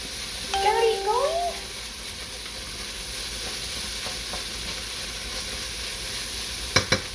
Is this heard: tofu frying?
yes